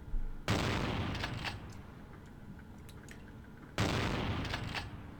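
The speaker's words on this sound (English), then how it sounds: "if he keeps shooting, we might be able to hit him on the reloads" Enemy gunfire in the video game Vampire the Masquerade: Bloodlines, two loud bursts of shots separated by a quieter stretch with a few faint clicks and taps, heard alone with no talking.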